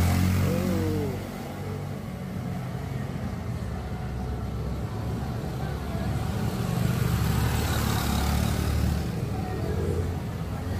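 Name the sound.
police tactical motorcycles revving past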